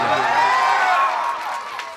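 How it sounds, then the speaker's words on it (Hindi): A loud, dense wash of crowd noise, like clapping and cheering, fills the whole moment without pause, at a stage show in Ara. "एक अनुपमा यादव के लिए जोरदार ताली हो जाए।"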